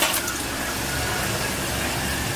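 Tap water running steadily while a spoon is washed off, a close, even gushing stream lasting a couple of seconds with no talking.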